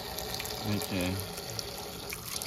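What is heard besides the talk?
old water fountain running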